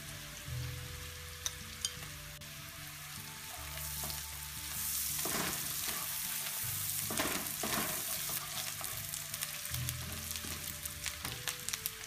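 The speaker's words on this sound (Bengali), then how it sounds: "আমরা পোলাও পেস্টটা বেশি ভাজি করবো না, একটু ব্রাউন কালার হয়ে গেলেই আমরা চালটা ঢেলে দেবো।" Onion and ginger paste with cinnamon frying in a rice cooker for Bangladeshi polao, a soft, steady sizzle with repeated scraping stir strokes, close but fairly quiet, and a low hum underneath.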